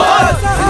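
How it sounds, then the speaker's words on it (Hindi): A crowd shouts a slogan in unison at a political rally in a Hindi dubbed film, one loud short burst of massed voices. "जिंदाबाद के नारे लगने चाहिए"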